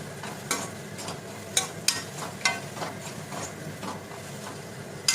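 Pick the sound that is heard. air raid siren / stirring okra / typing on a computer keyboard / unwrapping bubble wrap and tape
stirring okra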